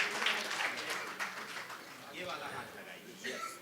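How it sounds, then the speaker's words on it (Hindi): A crowd applauding steadily at a Hindi poetry book launch ceremony, with voices mixed in over the clapping. "तालियों के साथ हम अभिनंदन अभिवादन करें"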